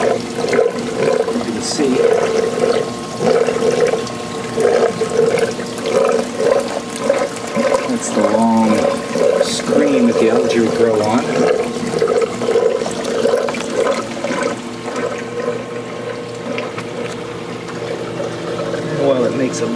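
Water splashes and churns steadily from the running filter of a 400-gallon bowfront aquarium. Someone talks over the continuous close, rushing and bubbling sound.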